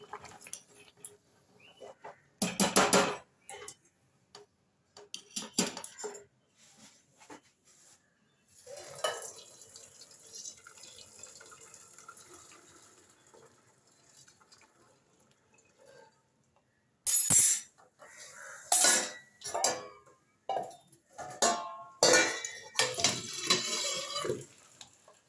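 Water from boiled potatoes is poured off from a pot in a home kitchen, arriving as a few short splashing bursts with clinks of the pot between quieter stretches.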